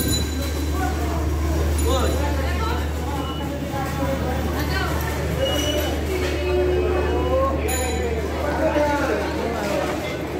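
Busy Khulna railway station in Bangladesh, with a steady low hum and indistinct crowd chatter throughout, rail and train noise blended into the background and a few faint metallic clinks.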